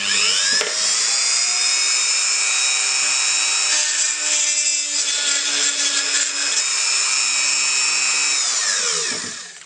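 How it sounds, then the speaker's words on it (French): A drill bores holes in a rocket part with a close, loud, high-pitched whine that stays steady for about nine seconds and winds down at the end, with slight changes as it bites into the material. "Alors voilà ma pièce que je viens de percer."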